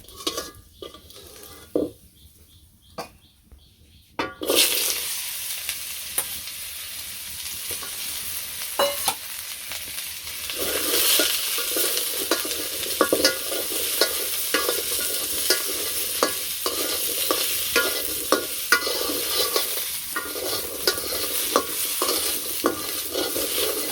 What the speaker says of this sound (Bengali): আলু দিয়ে দিব ওই তেলের মধ্যে।